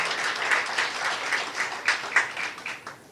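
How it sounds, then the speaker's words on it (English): Audience applause at a leadership summit, a steady wash of many hands clapping with a few sharper individual claps rising out of it, fading slightly toward the end. "We want to give a huge round of applause for all the Accenture team who's here."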